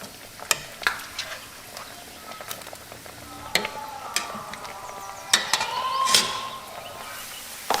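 Garlic sizzles softly in a pan while a utensil stirs and scrapes against the metal in scattered clicks and taps, for a light, steady frying sound made while cooking Acehnese shrimp kanji porridge.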